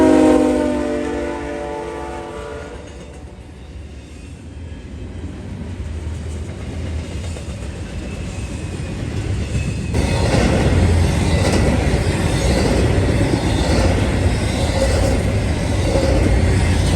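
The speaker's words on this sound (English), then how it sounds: "we saw eastbound intermodal train 258 coming in, with an NS AC GEVO and a GE rebuild for power" Eastbound intermodal freight 258 powered by a Norfolk Southern AC GEVO and a GE rebuild locomotive approaches with a horn blast, then a loud, steady rumble and wheel roar as it passes close by.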